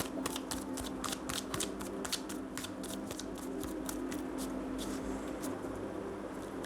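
Tarot cards being shuffled and handled during a reading, a steady run of crisp riffling flicks and soft slaps repeating close up throughout, with a low background hum underneath.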